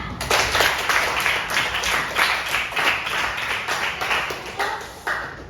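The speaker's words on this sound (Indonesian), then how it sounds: "Semua tepuk tangan" A classroom of students applauds a group presentation with loud, dense, continuous hand clapping that holds steady for several seconds before thinning out near the end.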